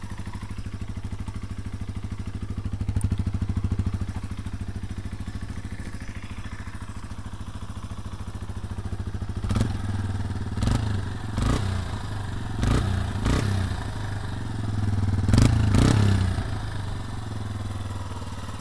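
Small Yamaha TW 125 motorcycle, over 20 years old, idling with a steady low thrum, then a run of sharp throttle blips and revs near the end.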